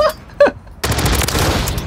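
A Zaku machine gun from the Gundam collaboration fires on the shooting range in Call of Duty: Modern Warfare 3. After two short tones, a loud burst of rapid automatic shots continues without a pause.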